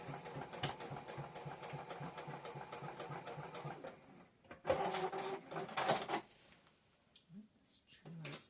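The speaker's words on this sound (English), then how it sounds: "I'm going to come forward over it a little bit and then do a back stitch again." A sewing machine runs a back stitch on a quilt piece, a steady rapid needle chatter for about four seconds, then a few short bursts and clicks with brief pauses, close by.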